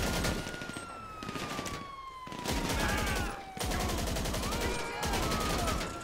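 Gunfire in GTA 5 Online during a police chase: dense bursts of shots crackle in rapid volleys, broken by short pauses, with a siren wailing underneath.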